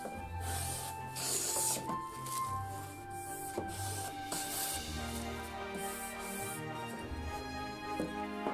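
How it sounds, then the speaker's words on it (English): A hand planer shaves and finishes small wooden kumiko parts for a Japanese shoji screen. Soft, repeated rasping strokes are heard close up, with a steady rhythm and no talking. "Finish each part with a planer."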